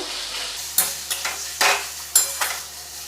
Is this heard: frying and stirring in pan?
yes